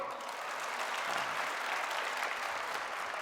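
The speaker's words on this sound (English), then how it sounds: "If so, clap properly." A school annual day audience of young people claps steadily and densely throughout, a sustained wash of applause with no voices standing out.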